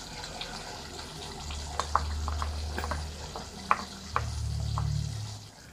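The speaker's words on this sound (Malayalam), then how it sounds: "ഇതിലേക്ക് നമ്മൾ ശർക്കര ഉരുക്കിയതാണ് എൻ്റെ കയ്യിലുള്ളതൊക്കെ ഒഴിച്ച് കൊടുക്കുക" Melted jaggery is poured into a coconut pickle (thenga achar) mixture, giving a soft, quiet liquid pour with a low steady wash and a few light clinks. No one speaks.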